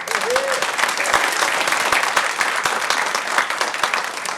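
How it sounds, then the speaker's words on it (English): Steady, dense applause from a crowd at a city council meeting honoring the state champion Jaguar baseball team, sustained clapping at moderate loudness with a brief voice near the start. "one more clap, come on"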